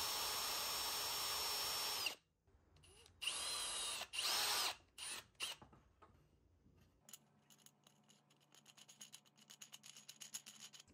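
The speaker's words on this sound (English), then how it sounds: "I'm pre-drilling holes to avoid splitting the wood." A power drill whirs loudly in several bursts, with pauses between, followed by lighter clicks and ticking handling noises.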